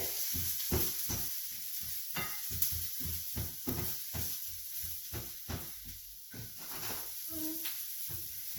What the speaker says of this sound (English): Let that fry for a little bit.